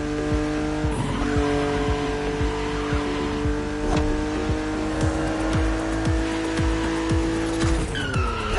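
A BMW Z roadster is driven and raced, its engine droning steadily close by with shifting revs, repeated tire squeals and skids, and a brief change in pitch near the end.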